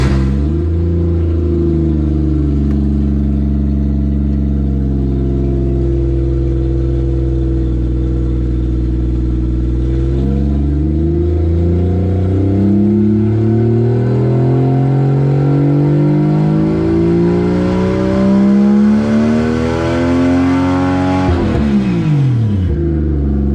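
A Lexus IS300 engine held in first gear revs steadily up toward 7,000 rpm, its loud droning pitch climbing smoothly before dropping sharply at the end, close and alone.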